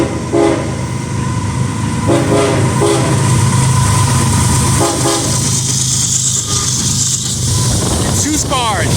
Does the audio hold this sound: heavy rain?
no